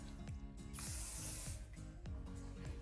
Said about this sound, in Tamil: ஸோ கடைசியில் செட்டிங் ஸ்ப்ரே வச்சு செட் பண்ணிடலாம்.